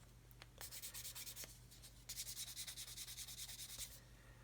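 A small 400 grit stick rubs back and forth over brass parts of a fold assist tool, giving quick, even, rhythmic scratchy strokes in two close, fairly quiet bursts.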